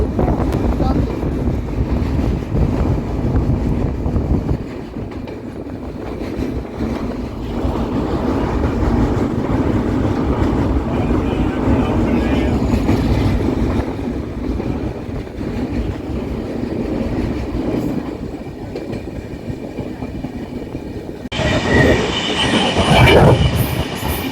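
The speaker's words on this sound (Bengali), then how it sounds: "ট্রেন যাচ্ছে কাবেরি ডেল্টা বেসিন" Train crossing the Kaveri delta basin near the Kaveri river, a loud continuous rumble of rolling wheels and clattering carriages, with a sharper, brighter rush of noise near the end.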